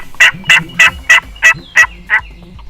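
Wild turkeys on spring farmland, a gobbler with hens, sound seven loud, evenly spaced gobbles at a steady rhythm, each a short rattling burst with quiet gaps between.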